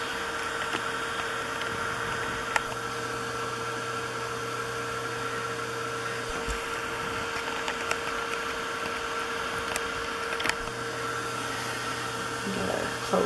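A hair dryer blows steadily on tissue paper layered on an artist trading card, a constant loud whooshing drone with a low hum that cuts out briefly partway through, then resumes; no one speaks.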